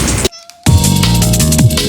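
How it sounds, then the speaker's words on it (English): Horror-themed drum and bass track from the album Festering Green, loud and dense with pounding bass and beats, dropping briefly to a sparse sustained tone before the full mix crashes back in. "I released both a horror-themed drum and bass album"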